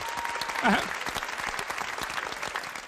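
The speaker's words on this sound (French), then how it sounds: "Applaudissez pour les énamistes." Applause from the audience at a live comedy show, steady crowd clapping throughout with a brief whistle or cheer rising over it near the start.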